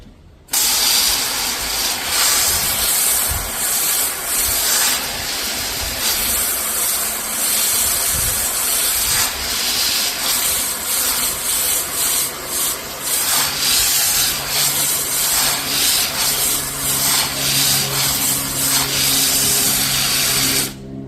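Water sprayed steadily over a car during a rinse after a pH wash: a continuous loud hiss with gushing and splatter running the whole time, with no talking.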